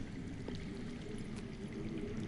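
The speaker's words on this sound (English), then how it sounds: "That's water. I hear water. From underground." Steady low rush of underground water flowing inside a Game of Thrones video game, a faint, continuous wash with no speech over it.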